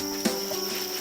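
Farmed crickets in Thailand chirp as a steady high-pitched trill, close and continuous through the brief moment, with a faint soft knock near the start.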